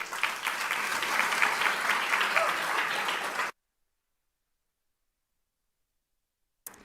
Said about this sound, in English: Let's get a round of applause to Mr. Jeffrey Malone.